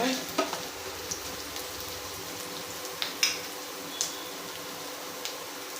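Onions and curry leaves sautéing in a pan for chicken kola urundai, a steady soft sizzle broken by a few sharp spoon taps and scrapes against the pan.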